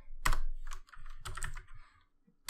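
Keys clatter on a computer keyboard as code is typed, a close run of quick uneven clicks in bursts, then a short pause before another firm keystroke.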